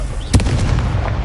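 A Confringo blast spell bursting in the Hogwarts Legacy video game, one sharp explosive crack followed by a short rumbling decay, loud and close.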